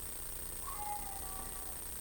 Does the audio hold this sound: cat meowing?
yes